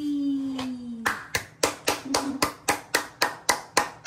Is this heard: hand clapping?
yes